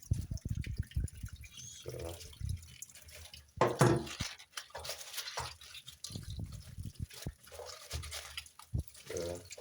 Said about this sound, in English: this water must be running for some time so that your kales are in a good, they're clean